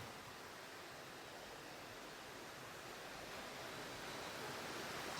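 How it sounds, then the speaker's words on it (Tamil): Heavy rain pours down in a dense, unbroken hiss that stays even throughout and grows slightly louder near the end, with no voices. "நல்ல மழை வேறுங்க."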